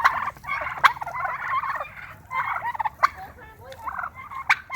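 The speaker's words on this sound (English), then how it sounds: "look at these turkeys" Several turkeys gobbling near a duck-feeding spot, rapid warbling calls repeating in bursts, fairly close and clear with short gaps between them.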